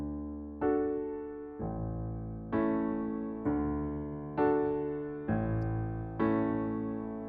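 Piano playing a song in plain block chords, seven slow, evenly spaced struck chords each ringing and decaying before the next, soft and alone.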